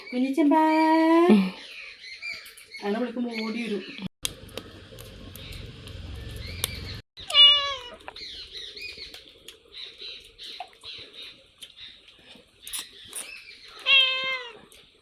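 A cat meows several times, loud and close, with pauses between calls and some shuffling and birdlike squawks in between.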